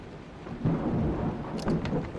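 Steady rain hisses in the game Vein, with a low rumble of thunder swelling midway and a few sharp crackles near the end, all fairly quiet and with no voices.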